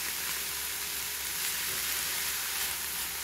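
Chanterelle mushrooms sizzle steadily in a hot frying pan, a constant even crackle with no pauses or voices.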